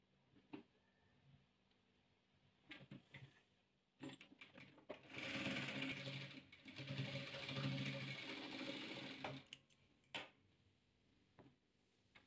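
A sewing machine stitches rows of patchwork quilt squares, a steady mechanical whirring run in the middle with a few short clicks and knocks before and after, close and fairly quiet.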